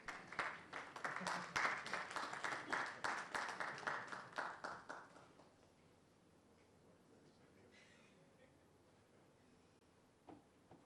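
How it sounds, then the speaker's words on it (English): A crowd at a science and maths quiz event claps in a brisk, fairly close round of applause that fades out after about five seconds, leaving quiet room tone with a faint knock near the end. "Let's welcome with a round of applause"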